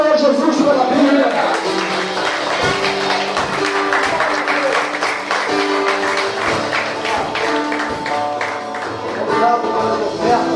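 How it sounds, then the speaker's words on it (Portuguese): A church congregation claps together in sustained, rhythmic applause, loud and close, with music and voices blending in throughout. "Aplaude o Senhor Jesus pela Bíblia."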